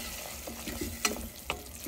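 Garam masala stirred into a bottle gourd curry in a pan, a low sizzle with two sharp spoon clinks against the pan, close and brief.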